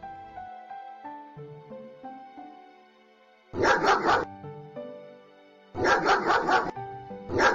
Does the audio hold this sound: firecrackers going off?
no